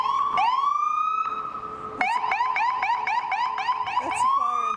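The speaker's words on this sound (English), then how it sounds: "That's a fire engine." A fire engine siren wails nearby on a city street by Arch Street Meeting House, rising into a long steady tone and then switching to rapid repeated yelps, loud and clear with no talk.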